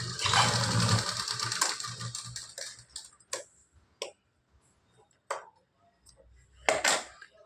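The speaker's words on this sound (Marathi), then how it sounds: "बरोबर जशी लाईन मारली त्याच्यावर आपल्याला फिटिंगची शिलाई मारायची" A sewing machine stitches a fitting seam on a blouse: a dense whirring burst at the start, then scattered short ticks and clicks, with another brief run of stitching near the end.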